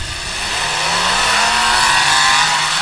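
A race car engine accelerates hard on a drag strip at a Border Wars event, a loud roaring drone that climbs steadily in pitch and stays strong across the whole stretch with no voices.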